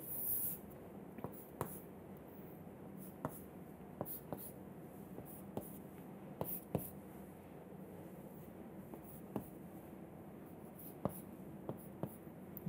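Chalk or marker drawing on a board during an engineering lecture, soft scratchy strokes with scattered faint taps and squeaks, quiet and intermittent in a hushed room.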